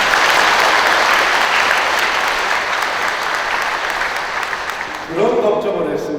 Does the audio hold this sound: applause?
yes